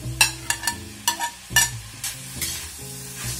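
Shredded pork, celery and tofu are stir-fried in a wok, with a spatula scraping and tossing in quick irregular strokes over a close, crackling sizzle.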